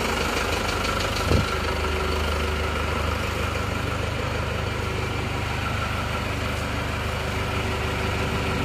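A cold, non-Euro 2 Isuzu Panther diesel engine idles with a steady, rough clatter. The rumbling runs continuously and close by, with one brief knock early on.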